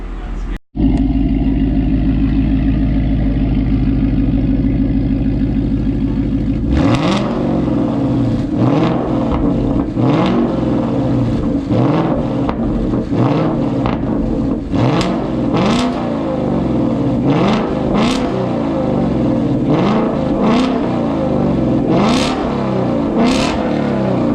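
A 2019 Ford Mustang GT engine with a Corsa Xtreme exhaust idles loudly, then revs hard again and again in rapid bursts, its throaty exhaust popping and roaring close by.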